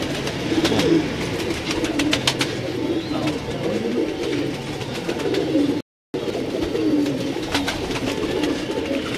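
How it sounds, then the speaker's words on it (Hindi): Pigeons coo in soft, repeated throaty calls, several birds close by, with a brief silent gap partway through. "ये जी डब वाला कबूतर है।"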